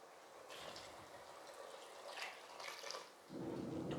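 A quarter cup of water is poured into soaked seeraga samba rice for mushroom biryani, a faint, close trickle and splash in short uneven surges that grows louder at the end.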